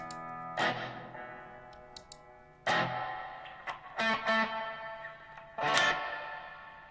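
An electric guitar played through a Black Arts Toneworks BAT reverb pedal, with a handful of isolated plucked notes and chords ringing out into long, dripping, echoing tails between quiet gaps, heard alone.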